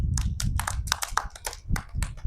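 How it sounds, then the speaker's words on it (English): Hands clapping in a classroom action-words activity, a quick, uneven run of close, sharp claps with a few slightly looser bursts, with no voices over them. "Clapping"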